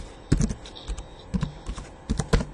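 Quick, irregular typing on a computer keyboard, close and fairly crisp, with short bursts of keystrokes and brief pauses between them, no one talking.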